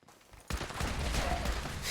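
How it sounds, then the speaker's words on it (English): Grenade explosions erupt in the video game Fallout 76: a brief quiet gives way to a sudden loud blast, followed by sustained roaring, crackling bursts that continue for the rest of the clip. "These grenades are insane"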